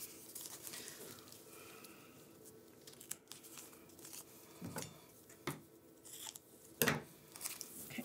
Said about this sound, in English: we're going to be grabbing our tape and just taping off these lines that we just made